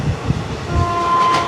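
A passenger train races at high speed near Bhimgarh Junction on the way to Dubrajpur, a loud, close rushing roar with rhythmic low thumps of wheels over rail joints and a steady tonal whine.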